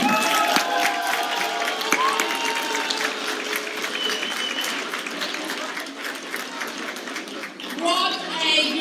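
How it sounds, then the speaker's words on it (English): An audience at a 40th-anniversary celebration gives Kirsten Hopkins and her team loud, sustained applause with some cheering, the dense clapping continuing throughout. "give Kirsten Hopkins and her team a thunder of applause"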